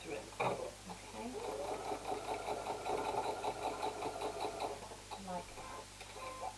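A sewing machine stitches a piece of fabric onto a journal pen holder, its fast steady mechanical whirr running close and continuous under a person talking.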